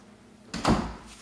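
A small flap door knocks open and swings with a quick hollow clatter, a single brief burst after a quiet moment.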